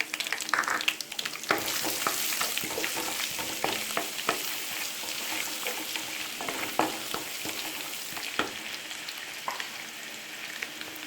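Chopped ginger and garlic fry in hot oil for a Kerala-style jackfruit biryani, a steady loud sizzle with frequent sharp clicks and scrapes of stirring throughout, no voices.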